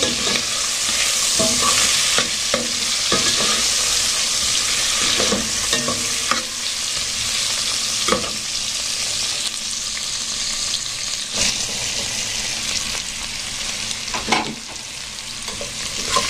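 Black pepper, seven-spice, two bay leaves and garlic fry in a pan, a loud, continuous sizzle broken by repeated scraping clicks of a spoon stirring close up.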